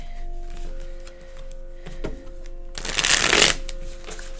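A short, crisp riffle of tarot cards being shuffled, close up, with a quiet steady hum in the background.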